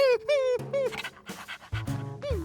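A cartoon dog pants and whines in quick, breathy, voiced bursts, close and clear, with short pauses between the huffs.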